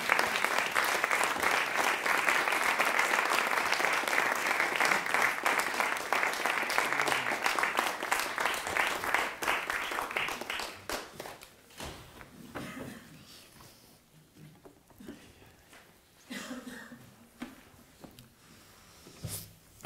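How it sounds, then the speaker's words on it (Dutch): Warm applause fills a literary café as two performers are welcomed, a full steady clapping that thins out after about ten seconds into scattered claps, shuffling and murmurs. "Graag een warm applaus voor Midas Dekkers en Piet Pirijns"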